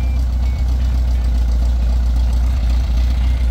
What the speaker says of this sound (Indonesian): sangat ngebas, juga ngekrik. Mesinnya sehat masih.